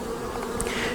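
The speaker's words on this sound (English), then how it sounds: "Here comes a bee out." A honey bee buzzes as it leaves a honey super through a bee escape board, a close, steady drone filling the whole moment with no voices.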